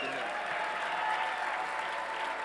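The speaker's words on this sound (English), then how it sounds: "Give John a round of applause." Audience at a press conference applauds steadily, a dense wash of clapping from a moderately sized crowd held at an even level throughout.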